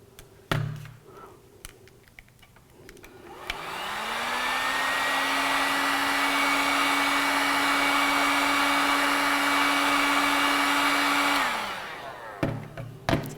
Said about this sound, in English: it may be necessary to warm it up with a hairdryer in order to bend it